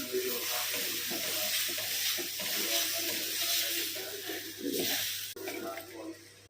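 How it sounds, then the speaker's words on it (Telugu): Dosa batter hits a hot pan and sizzles in a broad steady hiss, close by, with a voice speaking over it and a brief clatter near the end. "పాన్ హీట్గా ఉంది, మనం దోశల పిండి వేసి రెడీ చేస్తాం."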